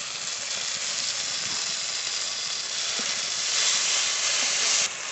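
Onion, tomato and ginger-garlic paste fry in a pan, giving a steady, close broadband sizzle and hiss that holds evenly throughout, swelling slightly louder near the end.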